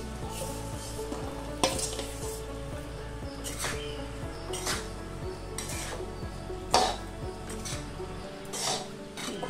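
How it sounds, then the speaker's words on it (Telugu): Cooked rice is stirred into a pulihora tempering in a pan with the stove off: repeated scraping spoon strokes and soft clinks against metal over a faint residual sizzle, close and fairly quiet. "ఇప్పుడు మనం ఇందులోకి రైస్ మిక్స్ చేసుకుందాం"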